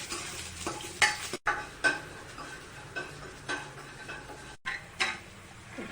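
Garlic fries in a pan with fenugreek and curry leaves, a faint sizzle under repeated scraping stir strokes and light clinks of a utensil against the pan.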